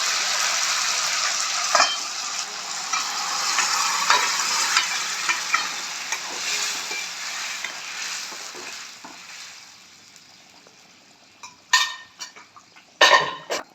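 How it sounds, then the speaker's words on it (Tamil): Mutton pieces go into a pan of well-sautéed onions for a mutton gravy, a loud, continuous sizzle with stirring that gradually quietens, followed by a few sharp metallic clanks of a spoon against the pot. "மட்டனை அப்படியே ஆட் பண்ணிக்கணும்"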